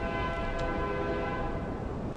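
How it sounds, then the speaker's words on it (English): A train passes with a sustained horn blast, a steady loud tonal drone holding throughout under a rumbling mix with no talk. "Oh, and there's a train."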